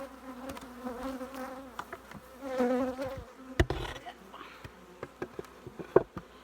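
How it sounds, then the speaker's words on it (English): Honey bees buzzing in a booming hive in an apiary, a wavering hum that rises and falls with individual bees passing near, mixed with sharp knocks and handling clicks from the hive work. "there's a lot of bees in there."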